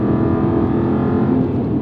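Lowered Aston Martin taking high-speed bends, a steady loud engine drone with a constant tonal hum and road roar throughout, heard from inside the car with no speech.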